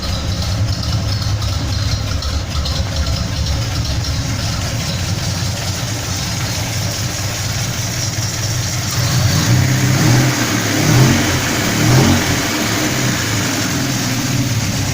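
Car engine with a dual exhaust, idling with a low steady rumble, then revving in a few surges near the end, loud and close outdoors.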